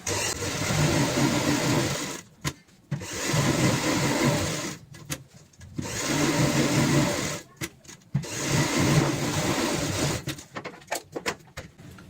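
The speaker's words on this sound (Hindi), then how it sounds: "इन्हीं निशानों के ऊपर हम सिलाई लगा लेते हैं" A sewing machine stitches a cushion cover in rapid mechanical whirring runs, four bursts of a few seconds each separated by short pauses, loud and close.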